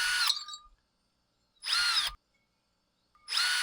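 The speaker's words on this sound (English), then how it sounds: "The driver did not even rattle trying to break them loose because they were loose." A cordless driver loosens screws on a Husqvarna 562XP II chainsaw, producing three short, close whirring bursts separated by silence.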